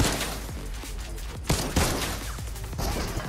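Rapid gunfire in Fortnite shooting at loot drones, a dense crackle of shots with a couple of heavier impacts, loud and close amid busy game noise.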